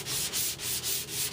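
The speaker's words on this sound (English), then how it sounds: "What you always want to do when you're block sanding is you want to keep it flat." Steady back-and-forth block sanding of a flat car body panel, a rough hissing rub with regular strokes and brief dips between passes.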